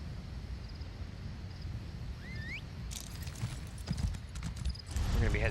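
A horse's hooves clip-clop steadily while it is ridden in Elder Scrolls Online, faint under a constant low rumble of ambient game sound, with a brief chirp partway through.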